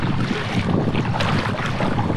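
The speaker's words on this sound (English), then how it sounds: "We got wind coming against us." Wind buffets a kayak on a river at Koh Kood, Thailand, a constant loud rushing roar of microphone wind noise with no talking.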